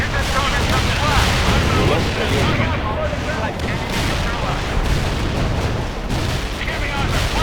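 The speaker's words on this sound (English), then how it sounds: "Heavy armor firing at the enemy team." Dense, continuous battlefield din of heavy armor and artillery firing in the game World in Conflict, booms and blasts overlapping with radio voices speaking over the barrage.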